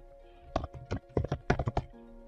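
Card details are entered on a computer keyboard: a close string of about a dozen light key clicks in quick uneven bursts, set against quiet room tone.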